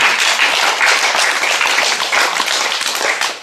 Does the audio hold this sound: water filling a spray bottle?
no